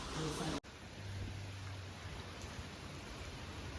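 Steady rain pours down outdoors at the Saputara hill station, a broad even wash of noise that stays constant throughout, after a brief louder burst at the start that cuts off sharply.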